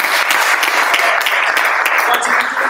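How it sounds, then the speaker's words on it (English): Dense, steady applause from a summit audience fills the whole stretch, many hands clapping at once at an even, loud level with scattered voices mixed in. "So round of applause for what's going on."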